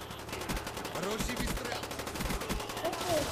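Rapid gunfire bursts in a Call of Duty: Black Ops online match, repeated shots crackling steadily throughout at moderate loudness, with faint speech murmuring underneath.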